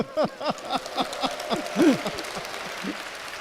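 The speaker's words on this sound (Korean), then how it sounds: "네, 박수." Church congregation applauding, a brief burst of clapping that quickly thins into scattered claps, with a voice speaking over it.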